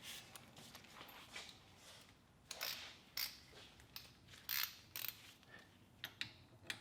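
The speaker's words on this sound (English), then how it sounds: "we're gonna loosen our fill bolt first, and then come and drain our fluid" A wrench works loose the differential fill bolt on a drift car, producing faint, irregular metallic clicks, ratchet-like ticks and creaks against a quiet background.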